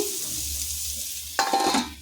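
Brief crackling sizzle of chicken frying in a covered pan, with a sharper burst of spitting near the end.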